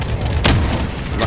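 A single sharp, booming gunshot fired through a wall in a Call of Duty Search and Destroy match, loud and close, cutting over steady game background noise.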